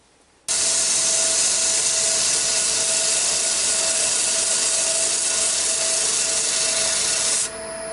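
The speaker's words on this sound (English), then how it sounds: "I've just given it a quick sand back to 180" A wooden lidded form is sanded with 180-grit abrasive, a steady, close hiss of rubbing that starts abruptly and holds evenly for several seconds before easing off.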